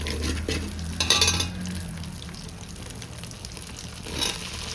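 Ginger garlic paste frying in oil for chicken egg fried rice while being stirred, with scraping and clattering of a spoon against the pan over a soft continuous sizzle.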